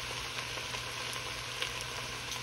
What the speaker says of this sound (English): I'm kind of saute this up a little, about 3 or 4 minutes